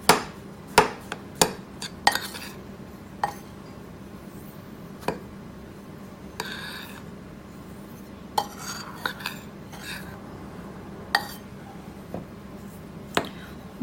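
Flour and salt being stirred together for homemade play dough, with scattered sharp clinks and taps of a utensil against a bowl over soft background noise.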